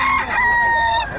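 A rooster crows loudly and close by in one long drawn-out call, with faint clucking of chickens around it.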